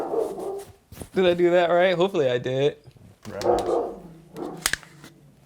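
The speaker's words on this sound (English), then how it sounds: "Don't think my dogs don't bark." Pet dogs barking and whining in a home during a podcast, loud, drawn-out harmonic yelps and howls in the middle of the clip, with people talking before and after.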